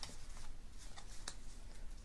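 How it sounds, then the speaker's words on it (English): Tarot cards are shuffled by hand, giving faint, soft riffling and a few light card snaps in a quiet room. "Need to practice on the shuffling."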